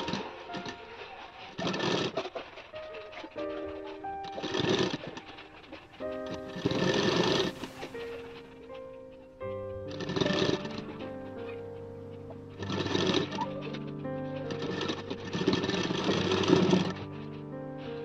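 A sewing machine stitches a baby skirt made from old jeans in several short bursts separated by pauses, with a faint tonal background sound underneath and no voices.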